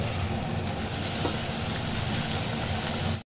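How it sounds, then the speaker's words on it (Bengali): Long-cut potato strips frying in a hot pan for kachki fish chorchori, a loud, steady, hissing sizzle that holds evenly throughout before cutting off abruptly at the end. "তারপর আমি এখানে আলু লম্বা লম্বা করে কেটে রেখেছিলাম, সেটাকে আলু ভাজার মতো করে সেটাকে আমি এর মধ্যে দিয়ে দিচ্ছি।"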